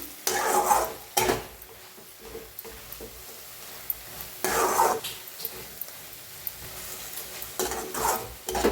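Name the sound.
stirring ambadi leaf sabzi in pan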